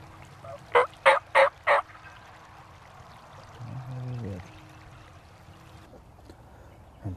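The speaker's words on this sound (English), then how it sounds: "turkeys are coming in from right behind us" Wild turkeys gobble from a field edge, four sharp rattling bursts in rapid sequence, followed later by a lower, softer run of calls against a quiet outdoor background.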